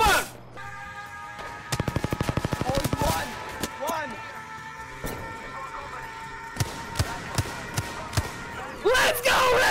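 Mastiff shotgun blasts in an Apex Legends firefight ring out as several separate loud cracks spaced across the fight, mixed with a quick rattling burst of automatic fire, and players talk throughout.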